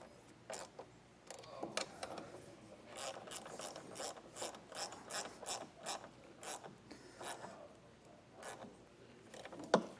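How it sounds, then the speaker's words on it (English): A ratchet wrench clicks in quick bursts while tightening small bolts on a Westin EXP truck topper on a 2025 Ford Maverick, close and crisp with brief pauses between strokes. "probably even just a 10mm wrench to actually tighten those down though."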